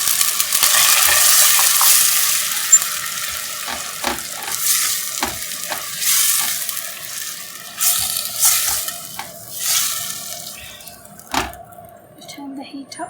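Tomatoes being stirred into onions frying in a pan for urad daal, with a steady sizzle and repeated clacks and scrapes of a spoon against the pan, loud and close, lasting throughout.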